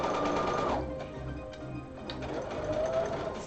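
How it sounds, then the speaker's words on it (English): Sewing machine stitching an interfaced piece onto a skirt, a steady mechanical whirring run that pauses briefly and then resumes, close and fairly loud. "And now I'm just sewing it on to the skirt."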